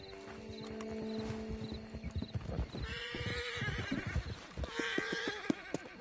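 Horses trot with rhythmic clip-clop hooves and neigh in Red Dead Redemption 2, the whinnies rising over the steady hoofbeats at moderate loudness, with no talk.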